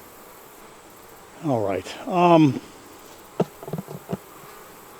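Honey bees buzz steadily around a lightweight hive in a fall bee yard, a soft continuous hum beneath a short stretch of nearby talking and a few sharp knocks.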